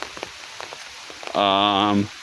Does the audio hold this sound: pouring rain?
yes